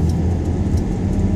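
A six-cylinder BMW engine in an Omega car runs steadily with a deep, low rumble, close and continuous, with no talk over it.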